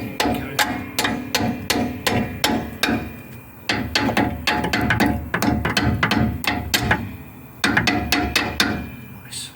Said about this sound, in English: slide this fork in here. Using a nice big hammer.